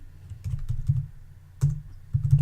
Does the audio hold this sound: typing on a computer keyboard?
yes